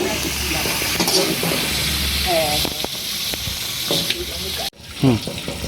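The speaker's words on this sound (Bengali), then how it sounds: "আমরা এই তেলের মধ্যে একটুখানি হলুদ দিয়ে ঘুটিয়ে নিচ্ছি যাতে সব সবজিগুলোতে ভালোভাবে হলুদটা লেগে যায়" Turmeric is stirred into hot oil with vegetables at a picnic cook-up, a loud continuous sizzle and hiss with scraping stirs, while a voice talks briefly over it.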